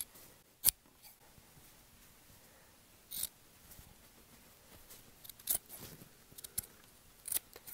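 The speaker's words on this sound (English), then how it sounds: "The sounds really aren't loud enough with the smaller scissors when you cut the fabric" Fabric is cut with scissors in a series of sharp, close snips scattered irregularly across a quiet background, with several isolated cuts and a few quick clusters.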